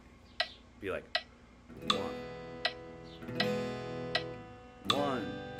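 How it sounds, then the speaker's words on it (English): Metronome set to 80 beats per minute, sharp evenly spaced clicks sounding under a voice that talks and counts along, close and fairly quiet. "80, so it should sound like this. I'll bring up my metronome."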